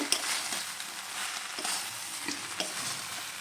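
Cauliflower curry with peanuts and peas is stirred in a frying pan, a continuous bright sizzle with periodic scraping strokes of the spoon, close and fairly quiet.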